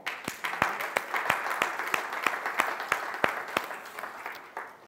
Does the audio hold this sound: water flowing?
no